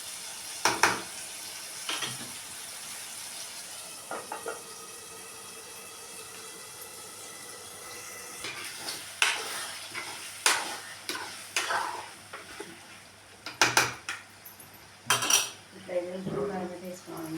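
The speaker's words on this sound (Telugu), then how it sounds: "ఇప్పుడైతే రొయ్యలు అయితే వేసేస్తున్నాను" Prawns tipped into a pan for a curry, with metal utensil clinks and scraping as they are stirred, a faint frying sizzle underneath and sharp clatters in the second half.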